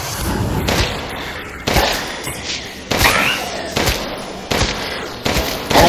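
Gunfire in Resident Evil Village as enemies are shot: five or six sharp, heavy blasts spaced about a second apart, each with a booming decay, loud and close over a low game ambience.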